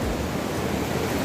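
Water pours down steadily on a mountain trekking trail to Gosaikunda, a close, continuous rushing hiss with no voices.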